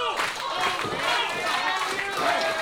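A wrestling crowd claps and cheers at a live independent wrestling show, a dense, continuous wash of applause and voices with an announcer's voice over it.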